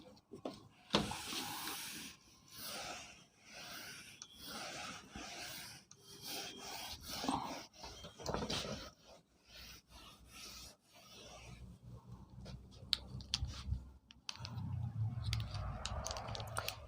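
Chalk or marker writing being rubbed off a classroom board during a Hindi-language physics lecture, heard as repeated rasping strokes in uneven bursts, with a few quieter gaps and louder scrubbing near the end.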